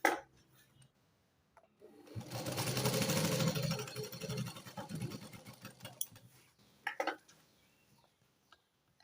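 A sewing machine stitches fabric in a short, moderately quiet run of rapid needle chatter lasting about three seconds, followed by a few faint handling clicks and taps.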